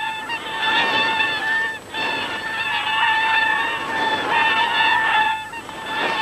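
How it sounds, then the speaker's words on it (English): Wild swans honk repeatedly in a flock, loud and close, with overlapping nasal calls in a continuous chorus and brief pauses between bursts, used as a sound effect in a fairy tale narration. "It was the wild swans."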